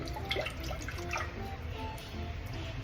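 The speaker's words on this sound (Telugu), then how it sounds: "కొంచెం నీళ్ళు వంపేసి చల్లనీళ్ళు పోసుకోవాలి కొంచెం నీళ్ళల్లో కడిగి పెట్టేసుకోవాలి" Water is drained off and cold water poured over freshly boiled vegetables for a Telangana-style veg curry, giving a steady close splashing and dripping wash that runs without a break and no talk over it.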